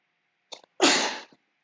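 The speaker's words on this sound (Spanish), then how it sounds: "Me estornudo de vuelta, esperen un poquito" A single loud, close sneeze, preceded by a short sharp intake of breath, then a brief exhale trailing off into quiet.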